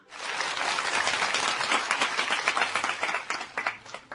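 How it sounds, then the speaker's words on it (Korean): Audience applause at a gathering where a retiring official is speaking, a steady wash of many hands clapping that swells quickly, holds, then thins into scattered claps toward the end. "지금 박수는 뭡니까?"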